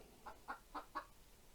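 A chicken clucks four times in quick succession, each short call fairly faint and alone.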